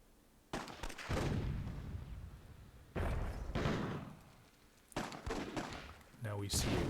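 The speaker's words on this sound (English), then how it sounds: "Oh, just a massive explosion there. Everything's blowing up." Explosions in the battle strategy game Myth II Soulblighter burst out as three heavy booming blasts that each decay into a rumbling roar, loud and close, with a commentator talking over them.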